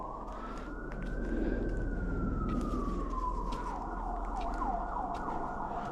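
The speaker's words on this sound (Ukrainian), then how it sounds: "Чуєте? Це вертольота сирена." A helicopter siren wails steadily in the distance in the Carpathian mountains, its pitch slowly rising and then falling, with no talking.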